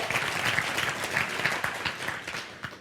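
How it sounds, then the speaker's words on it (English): Audience applause at a live men's seminar, a steady dense wash of clapping at moderate distance with faint voices scattered underneath. "guys should be clapping right now"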